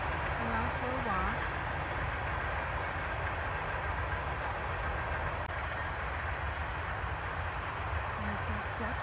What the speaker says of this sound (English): He can't hear you, there's a train.